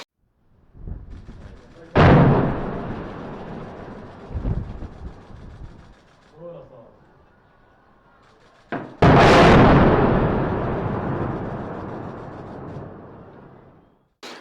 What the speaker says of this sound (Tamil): திரும்ப சிறிய சிறிய குண்டுகள் வெடிக்கும் போது அந்த மேல் மாடி இடிகிறது